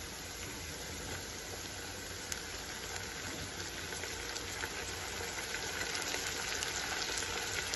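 Onions, mint and spring onion fry in a pan while cooking khichdi rice, a steady, fairly quiet sizzle and crackle running throughout without talk.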